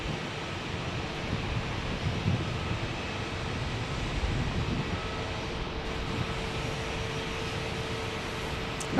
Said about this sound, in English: we get a 757 landing here